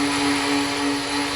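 A Griot's 3-inch polisher with an 8mm orbit runs steadily up close, giving a continuous loud whirring drone with a high motor whine and no pauses.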